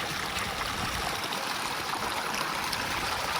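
Continuous rushing water flowing steadily, a broad even hiss of a stream heard close with no voices.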